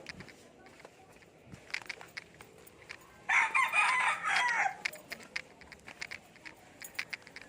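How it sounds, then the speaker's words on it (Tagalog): A rooster crows once, loud and close, over faint background chatter and scattered clucks from nearby chickens. "Yan po ang mga manok dito."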